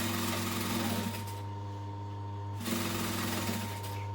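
A sewing machine hums steadily as it stitches a duffel bag, with a steady low motor drone that briefly quiets in the middle before the stitching picks back up.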